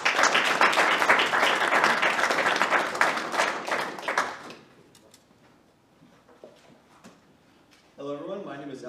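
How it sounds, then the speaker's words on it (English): Audience applause at a fall university idea pitch competition, a dense burst of clapping for about four seconds that fades to near quiet, followed by a speaker beginning to talk. "Round of applause for Alex."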